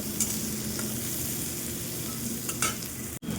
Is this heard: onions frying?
yes